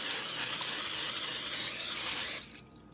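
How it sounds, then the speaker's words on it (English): Cooking spray hisses steadily into an oblong glass Pyrex casserole dish, a close continuous spray that stops abruptly near the end. "we're gonna spray down this oblong glass Pyrex pan"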